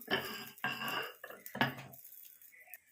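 A cheese omelet is plated for breakfast with a few loud clattering knocks of a utensil against a plate, spaced in separate bursts, then a quieter scrape before fading.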